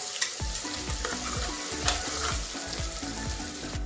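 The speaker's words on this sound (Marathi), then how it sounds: "हा कांदा एकदम छान लालसर होऊन द्यायचा आहे आपल्याला।" Finely chopped onion with a pinch of asafoetida frying in oil in a pan for pav bhaji, a close, steady sizzle with rhythmic scraping strokes of a spatula stirring it repeatedly.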